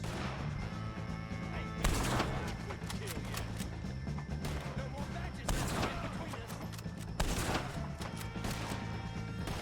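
A Red Dead Redemption 2 shootout against O'Driscolls: sharp gunshots crack out every couple of seconds over a constant bed of battle noise and music, with voices talking throughout.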